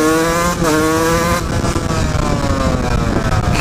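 Husqvarna 125 CR two-stroke motocross bike converted to motard revving hard, a loud, close engine note with rising harmonics, a brief dip near the half-second mark as it shifts, then pulling steadily under acceleration.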